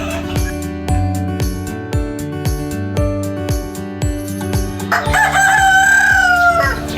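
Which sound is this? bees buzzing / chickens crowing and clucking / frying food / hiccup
chickens crowing and clucking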